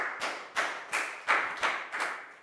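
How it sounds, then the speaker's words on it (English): Six or seven evenly spaced claps from schoolchildren in a classroom applauding a pupil, close and crisp, forming a short rhythmic burst with no talk. "High five and a big round of applause for Pat,"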